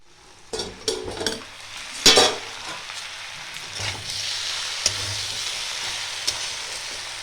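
Bengali cabbage chorchori is stirred in a pan, opening with a few scraping, clinking stirs and settling into a steady close sizzle of frying.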